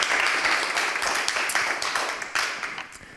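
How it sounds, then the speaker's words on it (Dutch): Audience applause for a panel at a Dutch political campaign talk event in The Hague, a dense, steady wash of many hands clapping that fades gradually over a few seconds, with no talk over it. "geef ons panel een warm applaus"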